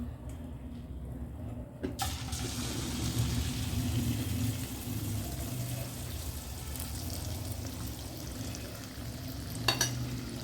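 Rava paniyaram batter fries in hot oil in a pan, giving a steady, soft bubbling sizzle with a low rumble beneath and a couple of faint clicks.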